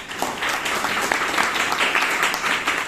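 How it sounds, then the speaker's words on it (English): Audience at a Toastmasters meeting in Bangalore applauds, a steady, moderately loud stretch of many hands clapping in an indoor room, sustained evenly from start to finish with no speech. "Applause."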